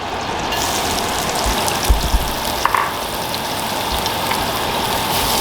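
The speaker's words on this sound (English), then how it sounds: "we're going to brown down these onions" Onions brown in light olive oil for goose barbacoa tacos, a steady close sizzle with a few soft clinks and stirring bumps; no talking.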